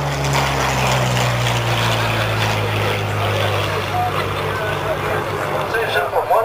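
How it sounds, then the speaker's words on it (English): A P-40 fighter plane flies overhead at Geneseo, its loud, steady propeller-engine drone holding close, then thinning and fading toward the end. "here we have another P40 going over"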